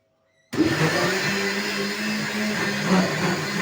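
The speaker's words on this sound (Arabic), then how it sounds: "هسه بنات حنخلطهن المكونات كلهن بالخلاط" An electric blender kicks on abruptly and whirs steadily at high speed, a loud continuous motor drone with a rough grinding texture.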